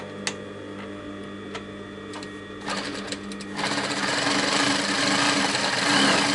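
A sewing machine stitches curtain lining, first with a few separate ticks, then running steadily in a fast, rattling whir that grows louder and stays constant to the end.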